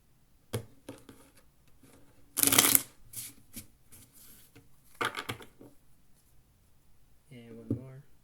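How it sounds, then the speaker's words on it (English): Close-up shuffling of a deck of playing cards, with scattered taps and riffles and one loud, fast riffle in the middle, and a short voice near the end. "And then one more big shuffle."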